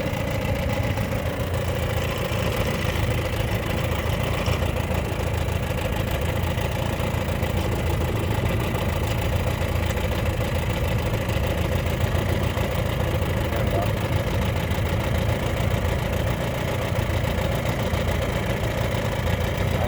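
A 1957 Mercury Mark 10 outboard motor, running after sitting unused for 45 years, drones steadily and fairly loud at close range with a continuous buzzing, rough-edged tone and no breaks.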